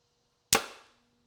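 A single sharp snap of a compound bow loosing an arrow while sighting in a horizontal three-pin slider sight, close and loud with a brief decaying ring in an otherwise quiet setting.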